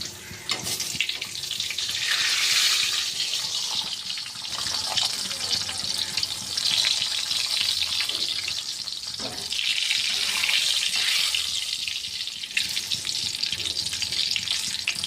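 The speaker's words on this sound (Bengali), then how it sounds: "আর এই পাঁপড় ভাজছে।" Papad frying in hot oil in a home kitchen, a steady bright hiss and bubbling crackle that keeps going throughout, with faint clatter mixed in.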